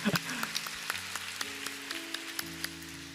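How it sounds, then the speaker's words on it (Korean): A young adults' church congregation claps under sustained keyboard chords, with scattered sharp individual claps standing out over a soft background wash. "박수 쳐주세요."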